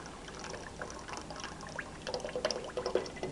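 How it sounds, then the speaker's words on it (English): Sodium hydroxide solution mixed with pureed carrot poured into a container while being slowly stirred, a soft wet trickle with small splashy pours and scraping that grow a little louder near the end. "I'm going to add my sodium hydroxide solution with pureed carrot. And I'm slowly stirring."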